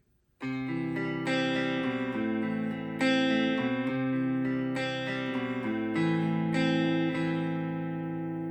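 Electric guitar plays the slow intro phrase of a song, strummed chords that change every second or so, clean and close, with no voices.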